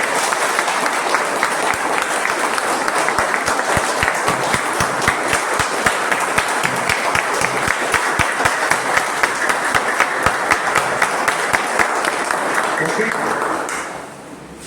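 A rural audience at an organic farming training session breaks into loud, sustained clapping with sharp individual claps in a dense steady roar, fading out near the end.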